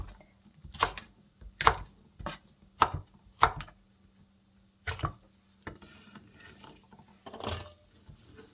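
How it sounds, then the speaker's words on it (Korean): About eleven Cheongyang chili peppers are cut into large pieces with a knife on a cutting board. Several crisp, close thunks come in a loose rhythm, with a pause midway before a few more cuts, and no one speaks. "청양고추 11개 정도 준비를 했는데요. 썰어 볼게요."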